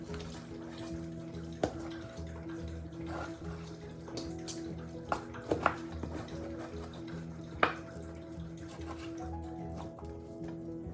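Irregular soft splashes and wet laps of a dog drinking water, with a few sharper clinks from the bowl over a steady low household hum.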